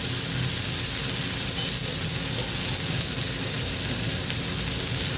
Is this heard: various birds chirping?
no